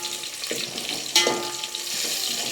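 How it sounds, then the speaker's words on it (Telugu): Green chillies fry in oil in a pan for Telangana-style radish pickle, a steady crackling sizzle with a couple of brief clinks of a utensil stirring, close and continuous. "మిర్చి మంచిగా వేగాలి"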